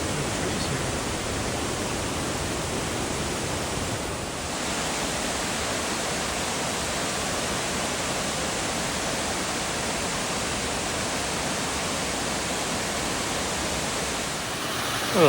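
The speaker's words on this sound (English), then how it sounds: "This is Conestoga Falls." Conestoga Falls in Ricketts Glen State Park pours in a continuous, dense hiss of falling water that stays steady and loud throughout, with no voices.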